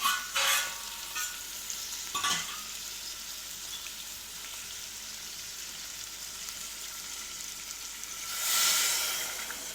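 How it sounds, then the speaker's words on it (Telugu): Water goes into a pan of potato curry with chilies and salt, giving a soft continuous sizzle with a few stirring scrapes and a hissing burst of steam near the end, close and fairly quiet. "వాటర్ వేసుకుందామండి."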